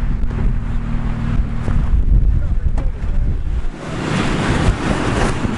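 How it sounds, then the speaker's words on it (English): Strong wind buffets the microphone in a continuous roar in the cold and snow at Weston Pass, Colorado, beside a Jeep, with surf-like rushing underneath and a brief voice near the start. "It's a little windy and cold out here though."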